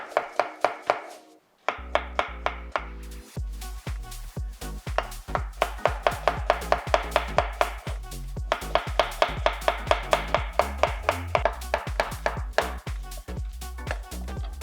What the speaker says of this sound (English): once you've diced that up nice and fine